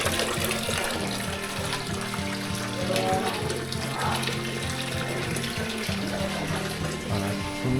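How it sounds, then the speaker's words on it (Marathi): Water flowing continuously from the Gomukh spout at the source of the Godavari river near Brahmagiri, Nashik, a loud steady splashing gush filling the whole stretch, with a constant low hum beneath. "तर कंटिन्युअसली गोमुखातून पाणी वाहत आहे."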